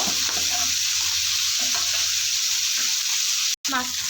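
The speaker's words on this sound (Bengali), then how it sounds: "মাথাগুলো ভাজার পর ডাকাগুলো দিয়েছি" Pieces of silver carp frying in hot oil, a constant close sizzle with occasional spatula clinks and stirring, briefly cut by a short dropout near the end.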